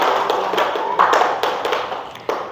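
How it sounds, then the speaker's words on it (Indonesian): Students in a classroom give a round of applause for a classmate, a short burst of scattered hand claps and taps at moderate volume with faint voices underneath. "beri aplaus dulu untuk Afifa"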